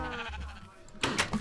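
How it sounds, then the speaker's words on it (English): Sheep in the Minecraft video game bleat with a few short, wavering calls near the end, after a stretch of low murmuring game background, fairly quiet overall. "Get out of my way, little sheep."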